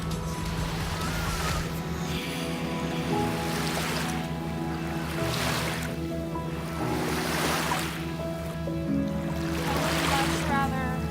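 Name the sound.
lake waves at St. Joseph, Michigan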